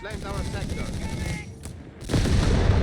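Machine gun fire in the World War II strategy game Company of Heroes 3, with dense overlapping gunfire and explosions that dip briefly, then swell louder toward the end of the battle.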